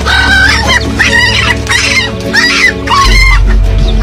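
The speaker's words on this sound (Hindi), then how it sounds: "मुर्गी लड़ने के साथ साथ अपनी आवाजें भी और जोर से निकाल रही है" A rooster squawks loudly in repeated harsh bursts while fighting a king cobra, close and frantic, over a steady low hum.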